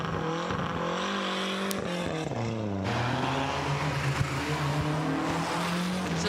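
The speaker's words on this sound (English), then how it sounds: "Just letting it breathe so we can hear that car off the line." A Group A Lancia rally car on a rally stage at the Goodwood Festival of Speed, its engine note rising and stepping through gears as it pulls away from the line, loud and steady with crowd ambience behind.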